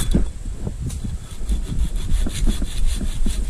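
A tree surgeon's hand saw cuts through a tree branch in close, loud, rhythmic back-and-forth strokes, steady throughout with no talking.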